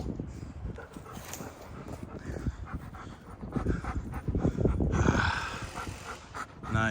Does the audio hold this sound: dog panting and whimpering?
yes